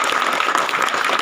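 An audience at a Hindi poetry recital in Indore breaks into applause, a close, dense burst of clapping lasting about a second with no speech.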